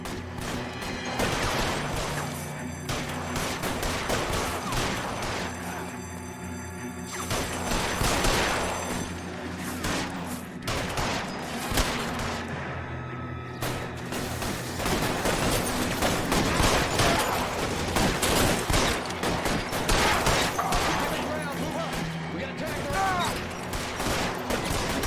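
Sustained gunfire in L.A. Noire as windows are shot out, dense overlapping shots and crashes rolling on continuously at moderate loudness, with voices talking over the firefight.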